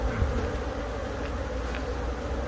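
Honeybees from a colony being removed from a tree, a dense, steady low drone of many insects buzzing close by, continuous throughout with no talk.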